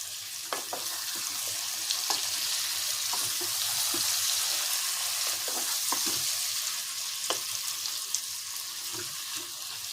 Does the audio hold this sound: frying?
yes